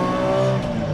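Ruf CTR, a turbocharged Porsche 911 with KKK turbos, accelerating hard, its engine a loud, close, rising harmonic drone held for about a second with no voices.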